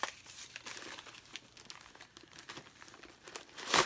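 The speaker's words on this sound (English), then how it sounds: "half the fun of receiving a gift is getting, tearing it open, right?" Gift wrapping paper held down with plenty of tape is crinkled and torn open by hand, a steady rustling crumple with a louder, closer rip at the end.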